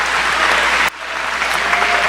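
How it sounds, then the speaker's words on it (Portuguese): A church congregation applauds loudly, a dense steady clapping that cuts off abruptly and then resumes just as strongly. "Pode aplaudir o Senhor"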